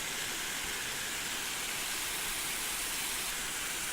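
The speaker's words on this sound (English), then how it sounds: "Looking at the waterfall" Purling Brook Falls in Springbrook National Park, a waterfall heard as a steady, broad rushing hiss that holds constant from start to finish, fairly soft and even, with no voices.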